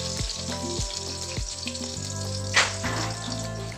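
Mustard seeds, curry leaves and cumin sizzling in hot oil, a close, steady frying hiss with a sharper crackling burst partway through.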